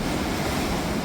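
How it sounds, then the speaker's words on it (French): Heavy surf crashes steadily against rocks below a narrow channel, a dense continuous wash of breaking waves with some wind rumble, close and loud, no voices. "Oh là là, les puissances des vagues ici."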